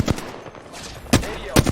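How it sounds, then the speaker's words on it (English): Gunfire from an opposing team in the video game Apex Legends, a few sharp, separated shots cracking out at irregular intervals, moderately loud and a little distant, with quiet background between them. "He's getting shot by another team."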